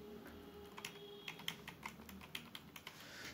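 Keys clack on a computer keyboard resting on a clamp-on keyboard tray, a quiet, close run of separate taps at an uneven pace with no talking.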